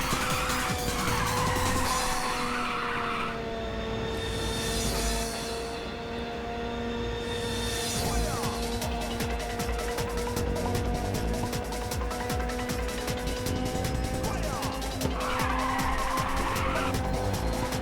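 Race car engine in the Ridge Racer 2 video game, a sustained buzzing whine at steady pitch with brief bursts of tire squeal near the start and end; loud and continuous, no talking.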